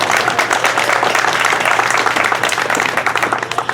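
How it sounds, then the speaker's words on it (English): An audience applauds steadily, a dense wash of many hands clapping at once, loud and sustained throughout before easing slightly at the end. "Let's give her a big round of applause."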